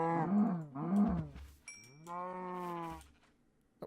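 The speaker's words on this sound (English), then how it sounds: "Oh, sheep. Oh, sheep. And cows." Cows lowing in a retro tornado survival video game, three drawn-out moos, the first two short and close together, the last longer and steadier, fairly loud with no talk.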